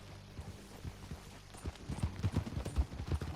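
Horse hooves clip-clop in Red Dead Redemption 2, a run of soft thuds that grows louder and quicker toward the end, close and alone without talk.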